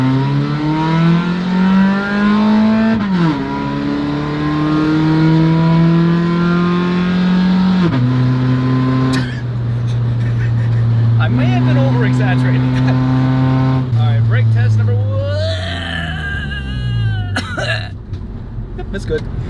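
The car LUNA, fitted with upgraded performance brake calipers, is driven on a test run: the engine drones loudly from inside, its pitch climbing through the gears with drops at each shift, while people talk over it.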